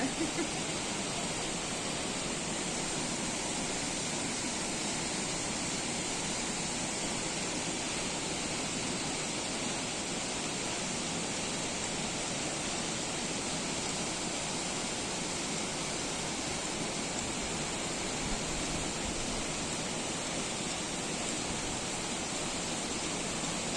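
Jägala waterfall in Estonia in March gives a steady, unbroken roar of falling water, dense and even throughout with no pauses.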